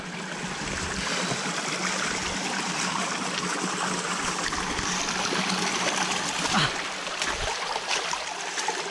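Siam waterfall in Sajek pours in a constant, even rush of falling water, a broad steady hiss heard from close by, with faint hints of voices beneath it.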